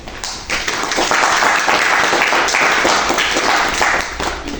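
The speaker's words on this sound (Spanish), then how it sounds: "Si podría dar un aplauso, por favor." An audience at an academic talk on Spanish phonetics applauds with dense, sustained clapping that holds steady for several seconds before tapering slightly at the end.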